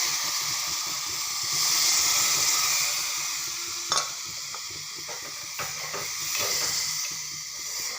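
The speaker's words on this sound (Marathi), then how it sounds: "मी एक वाटी साखर घालत आहे जरा छान असं मस्त परतून घेत आहे व मी एक वाटी दूध सोडणार आहे" Rava sheera made with semolina, sugar and milk hisses and sizzles steadily in a pan while being stirred, with a few scraping clinks of the spoon against the pan, close and moderately loud, with no talking.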